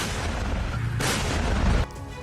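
Howitzer artillery fire in the war in Ukraine, a loud, dense rumbling blast roar filling the short stretch before abruptly cutting to quieter background.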